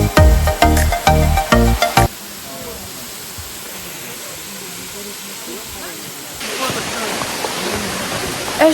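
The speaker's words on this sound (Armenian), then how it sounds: "մի քիչ էլ քայլենք ու հասնում ենք այդ ջրվեժին" Rushing water from a waterfall on a rainy hike in Armenia or Georgia, a broad steady roar that rises louder near the end, following a few seconds of sharp nearby knocking and handling sounds.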